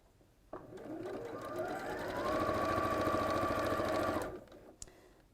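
A sewing machine stitching quilt block seams: a close, rapid mechanical whirr and clatter that starts abruptly, runs steadily for several seconds and stops, with brief quiet before and after.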